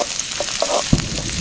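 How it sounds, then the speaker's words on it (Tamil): Onions frying in a pan over an outdoor cooking setup deep in a forest: a steady, close sizzle with a few soft stirring knocks, and no voices. "வெங்காயம் பார்த்தீங்கன்னா நல்லா வதங்கினதுக்கப்புறம் அதுக்கப்புறமா தக்காளி போட்டுக்கலாம்"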